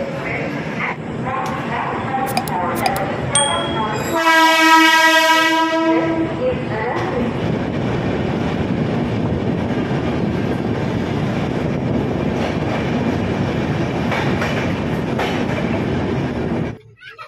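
The 12301 Rajdhani Express train rumbles steadily along the rails near Dhanbad, with a loud horn blast early on and faint voices in the background.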